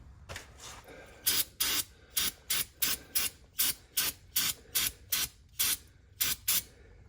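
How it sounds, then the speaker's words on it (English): A brake cleaner aerosol can sprays in a rapid series of about a dozen short, sharp hissing bursts, evenly spaced and close to the microphone, during rear differential service on a Subaru Impreza with manual transmission. "Try not to spray brake clean right at the axle seal."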